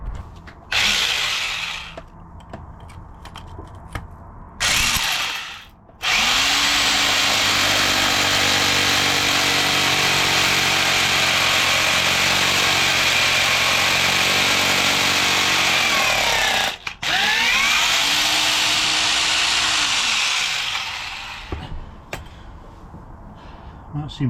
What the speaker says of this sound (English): Let's get a bigger drill out.